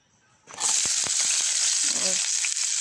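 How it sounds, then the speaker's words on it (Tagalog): Garlic and red onion hit hot oil: after a quiet moment, a sudden loud sizzle bursts up and keeps crackling steadily, with a few sharp pops and faint background voices. "may mantika na akong mainit na dito guys. Ilagay na natin ang bawang at saka red onion"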